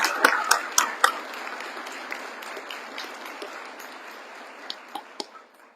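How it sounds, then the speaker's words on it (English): Audience at a police promotion ceremony clapping in a large room, a thin, sparse round of applause with a few sharp individual claps standing out, fading toward the end. "please give the family, friends, and coworkers a round of applause"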